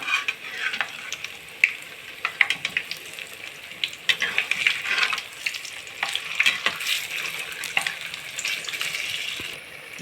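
Black urad dal vadas frying in a pan of hot oil, four or five at a time, giving a steady bubbling sizzle with occasional stirring scrapes and clinks, close and continuous.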